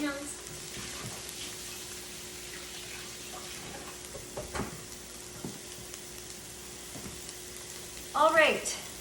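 Sausage browning in a pan for crab jambalaya, giving a steady low sizzle with a few clinks of a spoon, ending in a brief louder scrape and rattle.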